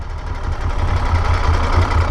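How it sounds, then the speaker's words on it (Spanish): A Moto Guzzi Stelvio motorcycle with a freshly rebuilt engine and new piston rings runs slowly in town, its low, throbbing engine pulsing steadily and loudly close by. "motor recién cerrado, segmentos nuevos, rodaje de segmentos, muy despacito, muy tranquilo"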